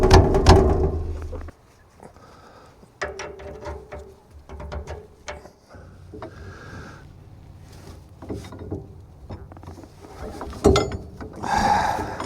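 An eye bolt being tightened on a 1973 CJ-5 Jeep during axle shim work, with scattered metallic clicks, ratcheting and clanks of tools and parts, close, irregular and moderately loud with quieter gaps.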